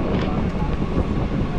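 Steady rumbling train noise with rushing wind buffeting close to the microphone beside an open train door in Mumbai, India, a continuous loud roar throughout.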